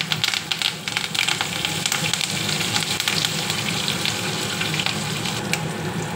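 Whole spices such as cloves and black pepper, with cut green chillies and curry leaves, sizzle and crackle steadily in hot oil, a loud, continuous frying hiss close by with no voices.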